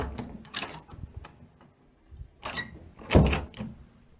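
A door opens as someone comes in, heard as a few scattered knocks and creaks ending in a solid thunk near the end, fairly close and with no talk.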